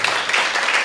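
A church congregation claps together in dense, steady applause, a full crowd sound filling the room throughout.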